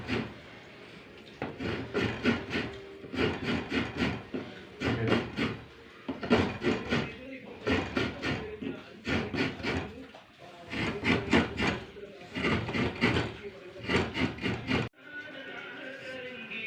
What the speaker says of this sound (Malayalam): തേങ്ങ ചിരവൽ ഇരിക്കാണ്